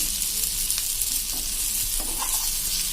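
Stuffed whole onions sizzle steadily in a pan that is swirled rather than stirred with a spoon while they caramelize, a close, continuous crackle with no voices.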